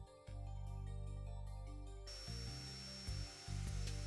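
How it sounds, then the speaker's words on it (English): A power drill bores holes through interior wall board to mount a return air grill, a steady whine with brief pauses and restarts, close and fairly quiet, with no talking. "Mark and drill holes for attaching the grill."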